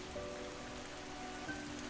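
Steady rain pattering on a surface, continuous and even throughout with no voices.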